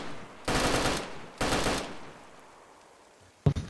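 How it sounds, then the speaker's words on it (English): Two long bursts of rapid automatic fire from a S.T.A.G. rifle in a multiplayer video game, each lasting about half a second, close and loud, followed by a brief sharp shot near the end. "I only have a single mag for my S.T.A.G."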